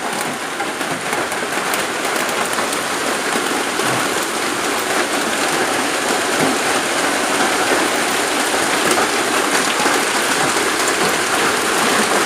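Heavy rain pours steadily and without pause on a floating house, a dense, loud, even hiss of drops drumming on surfaces with no voices over it.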